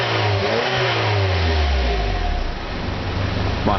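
A 2008 Saab 9-3 BioPower's 1.8 litre turbocharged engine revs up loudly, a steady low drone rising and falling in pitch before easing off, with no voices.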